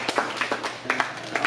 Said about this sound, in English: you should give yourself a round of applause